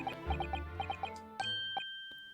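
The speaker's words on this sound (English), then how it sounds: "Oh, those bells." Chiming bells in the courtroom adventure game The Great Ace Attorney Chronicles: a run of bright, evenly spaced bell tones over a low hum, ending in a sustained ringing tone that slowly fades.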